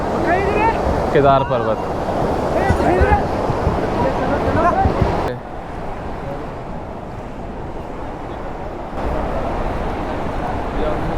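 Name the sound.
Mandakini river flowing near Kedarnath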